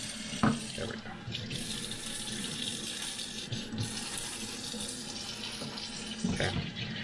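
A kitchen tap runs steadily into a sink while hands and a knife are rinsed after handling chicken, a continuous close splashing flow with a couple of small knocks.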